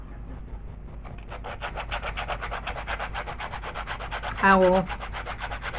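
Wooden letters are sanded by hand with steady, rhythmic rubbing strokes that keep going throughout, close and moderately loud, with a brief louder scrape near the end and a single spoken word.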